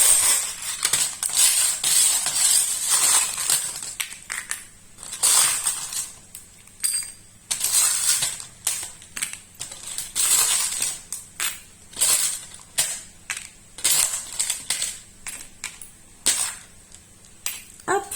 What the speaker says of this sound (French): je vais mélanger les breloques. Et c'est vrai que ça fait un petit peu de bruit.